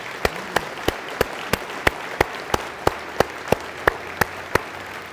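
Applause for military members and veterans at a mayors' breakfast event, heard as a slow, regular series of sharp single claps, about three per second, standing out over a soft crowd murmur.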